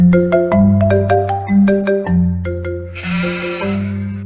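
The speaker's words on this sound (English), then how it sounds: "Bleated the sheep." Sheep bleats, a run of loud baas in a row, set against a bouncy, tuneful backing.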